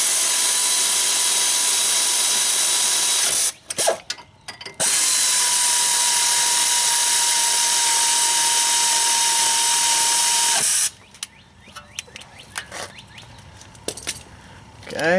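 A power tool tightens bolts on the brakes of an E83 BMW X3. Two long, loud, steady whirring runs are split by a short pause, followed by quieter clicks and handling noises.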